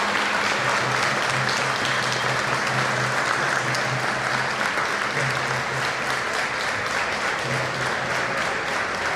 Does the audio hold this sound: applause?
yes